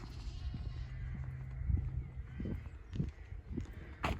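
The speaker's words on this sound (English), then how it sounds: "Probably hear the sheep in the background." Sheep and lambs bleat a few times in the distance amid quiet outdoor ambience by a river, their calls soft and intermittent.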